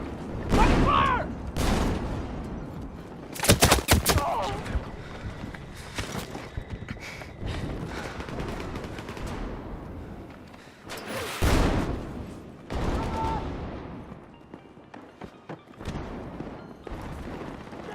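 LMR27 rifle gunfire in a multiplayer shooter video game, several loud close bursts of shots mixed with other distant gunfire and booms, with players' voices talking over the action.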